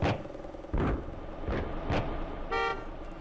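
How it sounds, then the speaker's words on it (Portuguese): A motorcycle horn beeps in the mobile game Cafe Racer, a short electronic toot standing out near the end over a steady engine-like game drone, with a few brief louder bursts earlier. "Eu posso usar minha buzina pra buzinar nas pessoas."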